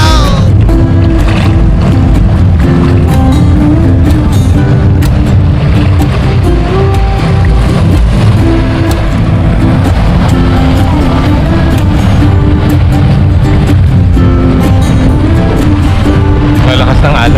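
Strong surf breaks on a beach in La Union after a typhoon, a loud, continuous roar of rough water rushing close by for the whole stretch.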